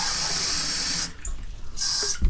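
Tap water runs steadily into a cooking pot of rice for a korma meal, a loud continuous hiss that cuts off about halfway, then gushes again briefly before stopping.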